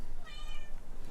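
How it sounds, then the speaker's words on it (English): A cat lets out a single meow, a short tonal cry rising out of steady background noise indoors, with no talk over it. "You can meow all you want."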